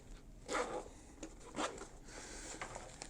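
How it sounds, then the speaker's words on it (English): Ambidextrous zipper on a 5.11 Tactical All Mission Rig pulled in two short, quick rasping runs about a second apart, close and fairly quiet, with a fainter third pull near the end. "You'll get, again, ambidextrous zippers, runs on either side"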